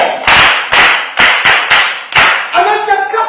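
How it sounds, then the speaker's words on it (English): A group of students claps in a classroom, giving about five bursts of sharp, close applause in uneven rhythm before a voice speaks. "Hey, clap for her!"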